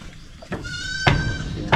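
Goats bleat at a rural goat shed where a mother and her kid are kept: three short, loud, close bleats, the last cut off at the end, with no talking.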